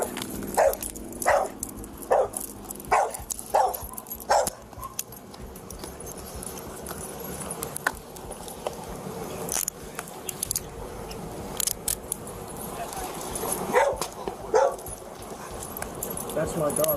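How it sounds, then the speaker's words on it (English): A dog barks in a quick run of sharp, loud barks at the start, then scattered barks and jingling keys continue under a busy scene with people talking during a roadside police stop. "That's my dog."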